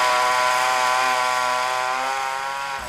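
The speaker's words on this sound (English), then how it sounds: "the sound of chainsaws would become as familiar as the bells of St. Michael's Church" Chainsaws clearing felled trees after Hurricane Hugo, a loud, steady high-revving engine whine held continuously and close, easing slightly toward the end.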